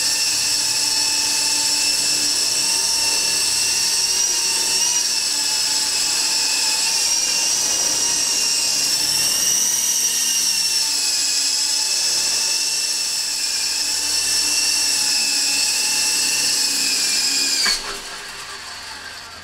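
Continuous high-pitched whine of a small Double Horse remote-control helicopter hovering nearby, its pitch wavering slightly, before abruptly cutting down near the end.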